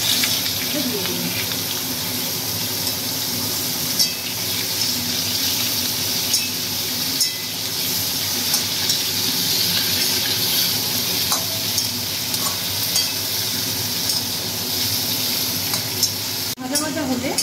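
Chopped vegetables and green chillies frying in a pan, a constant loud sizzle with occasional spatula scrapes and clinks, close and continuous.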